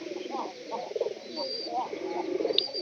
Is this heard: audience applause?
no